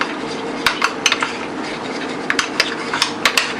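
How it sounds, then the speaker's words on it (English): A spoon stirs a thickener into a homemade peach cobbler mixture, giving a series of soft scraping clinks against the bowl, spaced irregularly and close by, with no talking. "Just stir that in"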